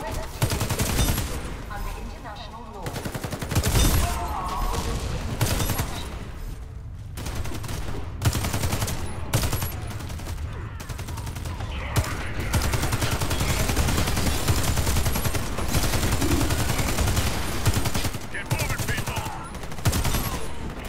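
Sustained gunfire at bots in the Warface video game, a PvE match, with repeated automatic bursts and short pauses running through the whole stretch while a player talks now and then.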